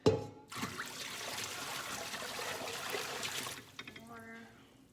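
Water is poured off a jar of sprouting lentils in a home kitchen: a soft, quiet trickle that runs for about three seconds, followed by a few light drips and clinks.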